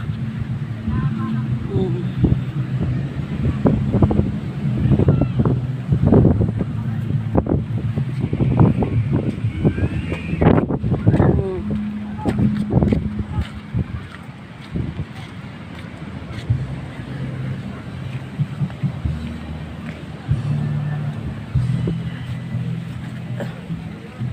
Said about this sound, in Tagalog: Lakas din ang hangin dito.